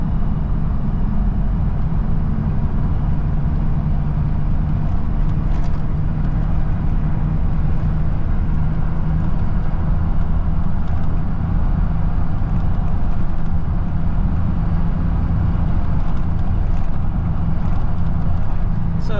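A Nissan D21 Hardbody pickup truck at full throttle, its engine holding a steady droning roar with road rumble throughout, loud and close from inside the cab.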